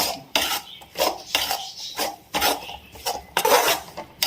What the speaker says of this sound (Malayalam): നമ്മളതിലായിട്ട് രണ്ട് തക്കാളി അരിഞ്ഞത് ചേർത്ത് കൊടുത്തിട്ട് നല്ലപോലെ ഇളക്കുവാണ്